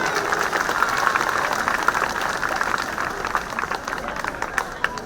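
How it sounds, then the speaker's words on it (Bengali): Audience at a math festival applauding steadily and loudly throughout, a dense wash of clapping with speech-like murmur mixed in. "তোমরা জোরে হাত তালি দাও"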